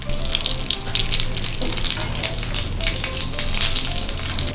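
Rava semolina cutlets coated in breadcrumbs fry in oil in a pan with a steady, close crackling sizzle and scattered pops throughout, without talking.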